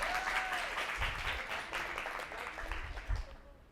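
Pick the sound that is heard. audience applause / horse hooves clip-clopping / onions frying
audience applause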